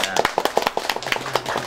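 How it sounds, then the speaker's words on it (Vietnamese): Scattered clapping at a Vietnamese engagement ceremony: a small group applauds in a quick, uneven burst of sharp claps, close and moderately loud, with faint voices in the background. "Bây giờ cho chào pháo tay coi."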